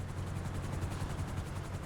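A helicopter in GTA Online chops steadily with a fast, even rotor pulse, faint and continuous with nothing else over it.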